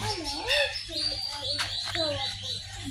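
Kestrel calling at a zoo, bright thin chirps repeating irregularly, moderately close, over steady background hum and occasional human voices.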